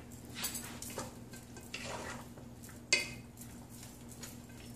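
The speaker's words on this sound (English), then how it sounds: "So we'll let that simmer a little bit" Shrimp enchilado sauce with peppers and onion simmering in a pan, a soft steady sizzle and bubbling broken by a few scrapes of a utensil and one sharp clink, with a low hum underneath.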